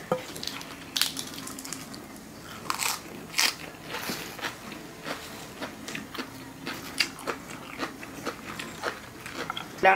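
Close-up crunching and biting while someone eats a spicy Thai salmon salad with rice noodles, with irregular crisp bites and chewing running steadily throughout, with no talking.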